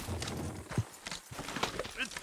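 Horse hooves clop rhythmically on hard ground amid rumbling movement in the video game Red Dead Redemption 2, with voices talking over the steady plodding.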